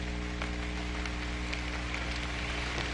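Rain falling steadily at a campsite, a dense constant patter on surfaces with scattered louder drops, close and unbroken, with no talking.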